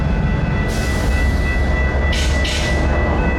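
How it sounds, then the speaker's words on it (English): A Metra commuter train led by a new SD70MACH locomotive pulls into a Chicago-area station, a steady loud rumble of rolling wheels and engine with brief hissing bursts of air brakes near the end. "a metro train pulled in and stopped at the station with one of the new SD70 Mac H's for power"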